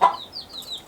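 Chickens in a backyard coop give a short, close burst of clucking followed by soft, rising chirpy calls, with no talking.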